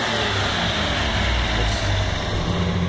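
A silver 240's warmed-up engine idles steadily at close range, a smooth, even low rumble with no revving and no voices.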